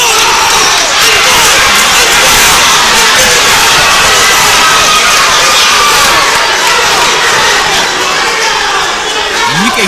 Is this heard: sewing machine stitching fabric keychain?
no